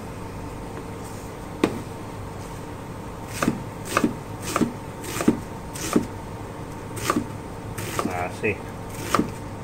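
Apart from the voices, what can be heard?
chopping a whole onion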